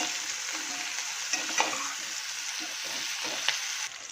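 Fried chicken and capsicum being stirred in a hot pan, with a continuous sizzle and occasional soft scraping strokes of a spatula, close up and steady for a few seconds.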